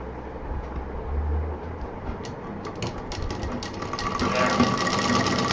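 Sewing machine stitching the bottom seam of a fabric tote bag, a steady, rapid mechanical whirr throughout with close clatter, growing slightly louder toward the end.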